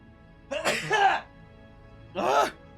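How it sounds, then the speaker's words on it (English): Two close, explosive sneezes with a short gap between them, the second slightly shorter, over a faint steady hum. "Oh god, I have to sneeze."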